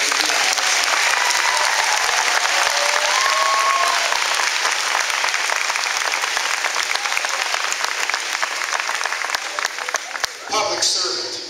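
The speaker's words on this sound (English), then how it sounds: "Let's give a round of applause to our band director." A crowd of parents applauds the band director at a school gathering, with loud, dense, sustained clapping that carries on for several seconds before tapering off near the end.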